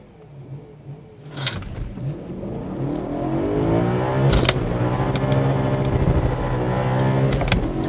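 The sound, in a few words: Nissan GT-R launching with wheel spin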